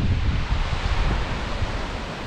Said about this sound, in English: So this is the river Ritort, I believe. And this is the river Ter.